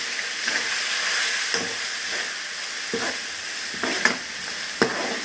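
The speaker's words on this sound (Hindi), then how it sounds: "इसको डाल के हम तकरीबन 2 से 3 मिनट भून लेंगे" Ground spices with potatoes and spinach stir-fry in a pan, a soft sizzle and hiss broken by several scraping stirs of a spoon at irregular intervals, close and without speech.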